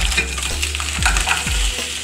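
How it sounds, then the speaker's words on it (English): Shrimp frying in a pan, a close, steady sizzle with a few soft stirring scrapes and knocks. "Stirring occasionally until the shrimp is pink and just cooked through about 3 minutes."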